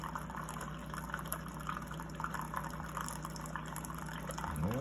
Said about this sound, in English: It's coming out. That's the Keurig.